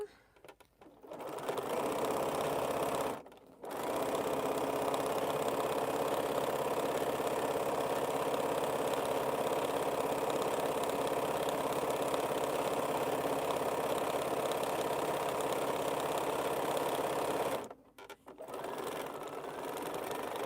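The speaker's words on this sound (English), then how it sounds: "You see Gigi sewing?" A sewing machine stitching on a quilting project runs in a long, steady, loud whir, with short stops near the start and end.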